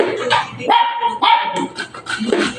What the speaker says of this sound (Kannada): ಅಲ್ಲಿ ನನ್ನ ಕುನ್ನಿ ಬುಗುತ್ತಾ ಇದೆ.